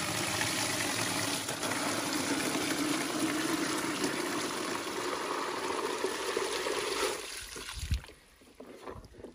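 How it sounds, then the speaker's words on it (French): Tap water running into a bucket on a farm, a steady loud rushing gush that holds for about seven seconds, then cuts off, leaving a few faint knocks and drips. "J'ouvre l'eau dans le seau."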